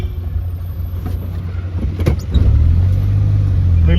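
A bus climbs past a hairpin bend on the Ooty ghat road, its engine growing from a low rumble to a loud, close drone that holds to the end.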